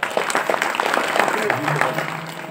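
An audience claps at a Ramayana discourse, brisk scattered applause from a crowd with a voice heard over it at times.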